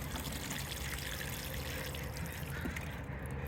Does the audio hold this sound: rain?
no